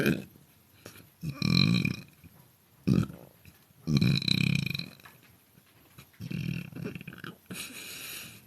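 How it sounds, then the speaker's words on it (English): Deep, drawn-out closed-mouth monster burps come in several long rumbling bursts, loud and close, separated by short pauses. "I'm gonna do like monster burps for the closed mouth stuff"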